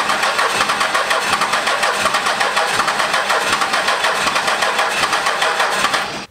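A 12V Cummins diesel engine with its P-pump refitted cranks steadily on the starter for about six seconds without firing, a loud, close, rhythmic churning that cuts off abruptly at the end.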